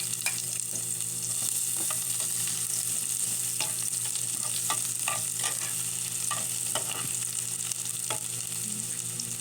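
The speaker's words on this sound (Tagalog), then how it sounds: "igigisa ko na po ang aking bawang dyan" Garlic sautéing in hot oil in a home kitchen, a continuous bright sizzle with scattered scrapes and taps of a utensil stirring it, steady and close.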